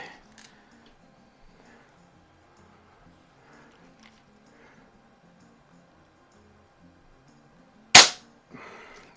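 A single sharp, loud crack from an Umarex Zelos air pistol firing a shot, standing out near the end against a quiet background, followed by a brief softer rustle.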